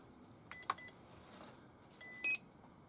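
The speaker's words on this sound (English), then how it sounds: "Oh, we got a beep from everything." Electronic beeps from a Tamiya Super Clodbuster RC truck: a short pair of high chirps, a pause, then one longer tone, all clean and fairly quiet against a faint background hiss.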